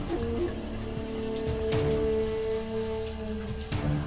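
Steady rain pattering on a surface in a drama scene, a dense continuous hiss with a sustained musical tone running beneath it throughout.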